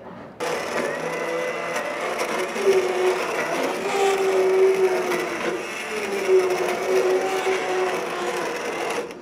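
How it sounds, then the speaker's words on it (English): A blender whirs steadily as it purées the strained solids of a sauce, a continuous motor drone with a shifting whine that holds for most of the stretch after a brief silent start. "you want to take your solids, blend them, put them back in your sauce"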